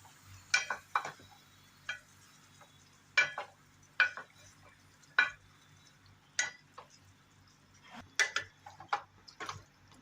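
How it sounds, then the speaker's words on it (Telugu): Chicken curry is stirred in a pan with a spoon, giving quiet, sparse scrapes and clinks spaced a second or so apart over a faint low background, with no voices. "ఇప్పుడు కొంచెం మంచిగా కలిపేసుకోవాలి."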